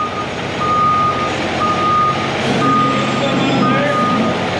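A concrete truck rolls out at a large concrete pour, its reversing alarm beeping in a steady, regular rhythm over a loud diesel engine rumble nearby.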